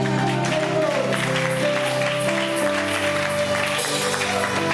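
A church congregation applauds loudly for the Lord. The continuous, dense clapping sits over sustained music and voices.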